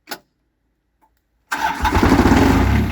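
A John Deere 430 tractor engine in cold weather, around 25 degrees, cranks briefly, then after a pause fires up and runs loud and steady, revving under throttle for the rest of the clip.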